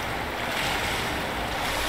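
Water rising and churning in the video game Black Mesa, a steady loud rushing wash like surf that fills the whole stretch without pause or talk.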